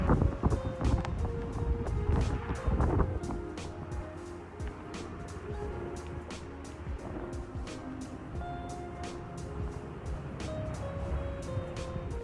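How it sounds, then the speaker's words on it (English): Blustery typhoon wind roars steadily with heavy rain hammering down in Taiwan, a continuous loud wash of noise with gusts and scattered sharp drips throughout. "it's windy and it's very rainy"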